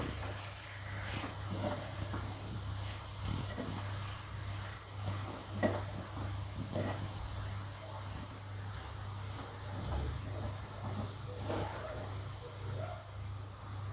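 Steady sizzling of potato curry with green chutney paste in a pan, with intermittent scraping stirs, continuous and fairly close, over a low constant hum.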